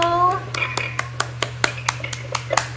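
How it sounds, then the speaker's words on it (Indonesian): Children in a classroom clap for a student group, about a dozen sharp, separate claps in a loose rhythm, close by, with a voice speaking briefly at the start over a low steady hum. "Tepuk tangan untuk kelompok 1."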